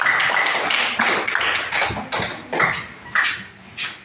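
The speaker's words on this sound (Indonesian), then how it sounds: "Kita beri tepuk tangan untuk kelompok 1." Scattered, uneven clapping from a class applauding a student group, sharp individual claps bursting at irregular intervals close by rather than a full sustained ovation.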